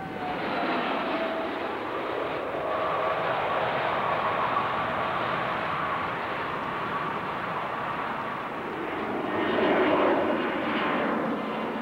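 Airbus A310 airliner jet engines roaring in flight, a steady broad rumble with a slight swell near the end, with no voices over it.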